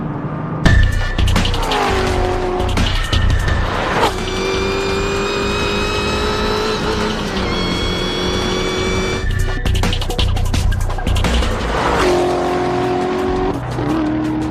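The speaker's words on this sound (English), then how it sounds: "We've got the exhaust in the track mode, and let me tell you, it is loud." A loud, throaty sports car exhaust in track mode roars continuously at close range, rising and falling as the engine revs hard, with tire noise and sharp pops between gear changes.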